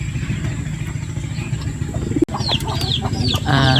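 A gamefowl rooster clucks in short, soft bursts near a steady engine drone in the background, the clucks growing busier toward the end.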